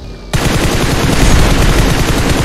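Rapid automatic gunfire erupts in PUBG Mobile, a loud, dense stream of close shots that keeps going after a sudden start.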